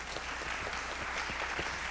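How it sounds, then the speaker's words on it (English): Steady applause from an audience at a conference plenary session, a dense wash of clapping that continues throughout at moderate loudness. "Let's give Assistant Secretary a round of applause"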